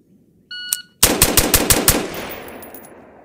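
A timer beep and then a quick string of about eight loud, closely spaced gunshots fired through an Airborne Arms Geronimo trigger on a range. The shots ring out sharply and a long echo fades away behind them.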